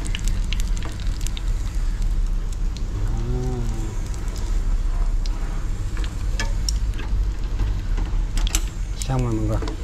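Vegetarian food sizzles and crackles steadily in a frying pan, a dense continuous hiss close by, with a voice speaking over it at moments.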